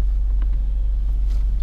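A car coasts slowly up to a fuel pump with the clutch down, giving a steady low rolling rumble with light tyre and wind noise close to the microphone and no talking.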